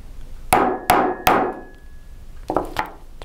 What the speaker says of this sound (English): And then I'm going to give it a couple whacks.